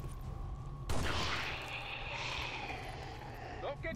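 A pistol shot fires in XCOM 2 with a sudden sharp crack. A lingering whooshing, ringing tail follows and fades over several seconds, and faint speech-like sounds run underneath.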